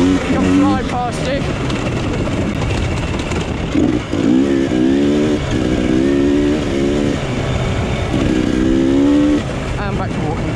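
Yamaha Tenere enduro motorcycle riding past at an enduro event on a dusty golf course, a loud engine droning and revving in repeated rising pulses, close by, with a voice talking over it.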